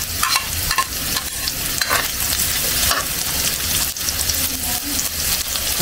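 Chopped onion and garlic fry in a pan as the base for chicken feet tinola, a dense, continuous crackling sizzle close by, with scraping stirring strokes and occasional sharper pops throughout.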